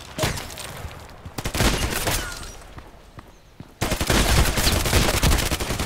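Gunshots in the online shooter Contract Wars ring out as sharp broadband cracks. Several bursts and single shots come at close range over the first few seconds, a brief lull follows, then denser rapid fire resumes loudly.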